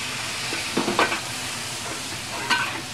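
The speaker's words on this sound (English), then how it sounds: "now put in the vegetables" Precooked vegetables stir-fried in a hot pan with ginger and green onion, a continuous loud sizzle with a few quick clattering stirs and tosses near the start and again toward the end, no talking.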